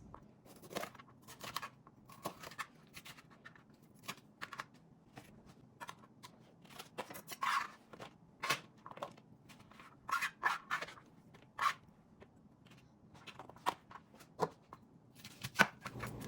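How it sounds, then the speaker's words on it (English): A knife chops peppers and onions into a rough dice on a cutting board, with irregular sharp taps and scrapes that come in bursts throughout, close and fairly quiet. "start giving a rough dice to my peppers and my onions"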